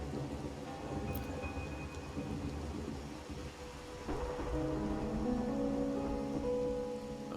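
Steady rain with a low rumble of thunder fills a stormy cutscene in the video game Wuthering Waves, a dense continuous wash that swells slightly partway through, with no voices.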